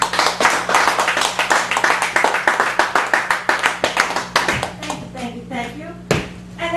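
A small audience at a cafe gallery poetry open mic claps in a steady, close burst of individual hand claps that thins out toward the end, with people talking over the last moments.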